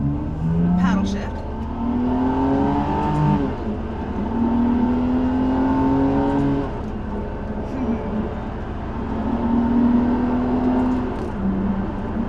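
A Ferrari 612 Scaglietti engine pulls steadily under acceleration, its rising tones stepping down with each paddle shift, loud and close throughout a continuous drive.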